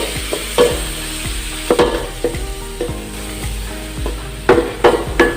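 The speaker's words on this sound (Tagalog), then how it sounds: "Ilagay na rin po natin itong ating kamatis. Ayan, gisa-gisa lang po natin." Tomatoes being sautéed for Bicol Express, with loud scraping and knocking of a utensil against the pan over a constant frying sizzle, strokes coming in an uneven rhythm, close and without talking.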